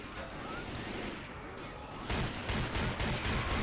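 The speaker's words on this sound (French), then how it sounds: "Quel plaisir la Gatling, putain, ça c'est géant ça." Gatling gun firing in Left 4 Dead 2, a dense, loud, continuous roar of rapid gunfire that swells even louder partway through, with no talk over it.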